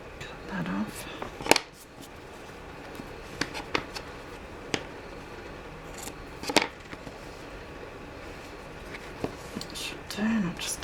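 Scissors snip through fabric while a hardback book is being covered in it, making a few sharp, close cuts spaced seconds apart against a soft, whispery voice.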